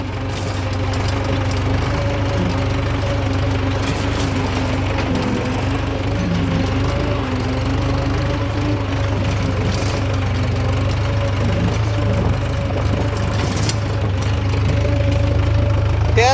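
A tractor engine pulling a Dharti seed drill drones steadily and evenly, a low, continuous throb with a faint knocking texture, heard close and alone throughout.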